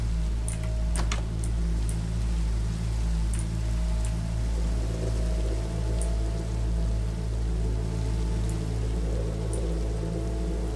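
Rain pours steadily in the horror video game The Disturbed, an even hiss layered over a low droning hum, with occasional faint ticks and clicks scattered on top.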